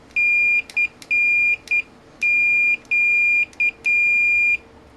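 A Fluke 115 multimeter giving continuity-test beeps, a loud, clear, high tone in a series of long and short bursts with uneven gaps, alone with no talking.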